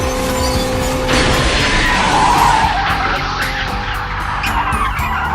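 A 1986 car engine with a failing number 2 cylinder runs close and loud, giving a rough, harsh roar that continues steadily throughout with no talking.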